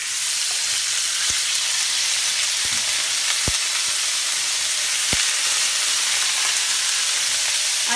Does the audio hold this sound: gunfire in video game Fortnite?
no